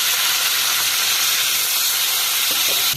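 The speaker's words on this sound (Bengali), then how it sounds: "তেল গরম হয়ে গেছে মাছ লাটা মাছগুলো দিয়ে দিলাম" Leta fish fry in hot oil with a loud, close, continuous hissing sizzle that stays steady throughout and eases off only at the very end.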